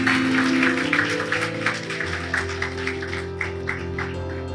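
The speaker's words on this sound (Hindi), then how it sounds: "फिर से एक बार जोर से ताली बजा सकते हैं इन सारे लोगों के लिए" A Hindi church congregation applauds at a Sunday service, a steady patter of clapping hands under a sustained tonal hum that tapers into scattered claps.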